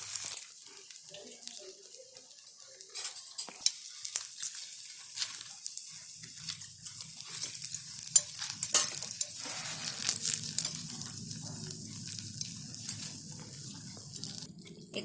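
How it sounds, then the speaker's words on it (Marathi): Egg bhaji fritters deep-frying in oil, a faint fizzing sizzle with scattered crackles and pops that grows a little busier toward the end, close but quiet, with a low murmur underneath. "आता मी हे सर्व आहे ना असे तळून घेते आणि तुम्हाला दाखवते"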